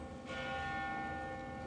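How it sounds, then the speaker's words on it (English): A single church bell strikes and rings out with a sustained, fading tone against a quiet background; the bell rings every 15 minutes. "this church bell rings every 15 minutes, all day and night"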